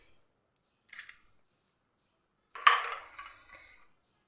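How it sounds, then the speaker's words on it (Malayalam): An egg is cracked and poured into a pan in a home kitchen, giving a short tap against the rim followed by a brief, wet crackle and splatter, heard alone in a quiet room. "ഇനി ഇതിലേക്ക് ഒരു മുട്ട നമുക്ക് പൊട്ടിച്ചങ്ങൊഴിച്ച് കൊടുക്കാം"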